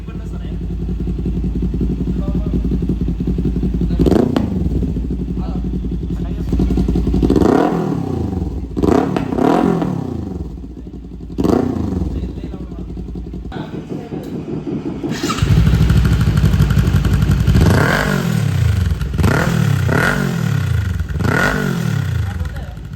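A Kawasaki Ninja 400 fitted with an Akrapovic slip-on exhaust idles loudly up close and is revved in repeated sharp blips, with a gap between bursts and a quick run of revs near the end.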